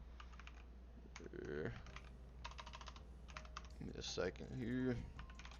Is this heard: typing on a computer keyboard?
yes